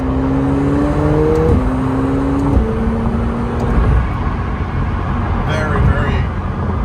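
A McLaren 720S accelerates hard through quick gear shifts, its engine note climbing and stepping down at each shift, heard from inside the cabin while a driver talks over it.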